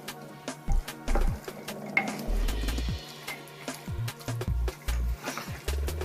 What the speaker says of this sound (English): Okay, so I'm going to stir all of this together